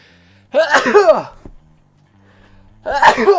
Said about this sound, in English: the beginnings of a sneeze